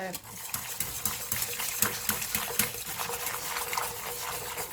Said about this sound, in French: on va remettre en fait la crème dans le bouillon. Voilà. Et en fait, il faut agiter.